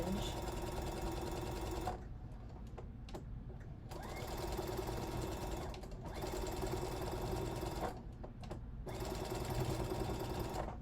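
A sewing machine stitches fringe on a scarf being turned into pants, running in several loud, rapid bursts separated by short pauses, with heavy back-and-forth stitching at a stress point.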